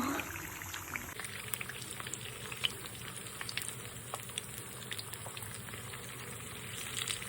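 Thai fish cakes fry in hot oil with a steady, close crackling sizzle and scattered sharper pops, continuous and without talk.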